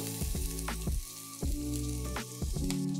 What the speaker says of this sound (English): We start with putting some aromats into the oil